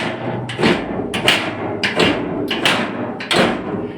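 A steel bolt in a homemade safe lock is worked back and forth, giving about five loud, close metallic slides and clunks at an irregular, fairly steady rhythm.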